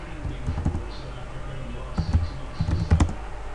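Fingers type a command on a computer keyboard into PowerShell, with close, quiet keystrokes coming in short, uneven clusters.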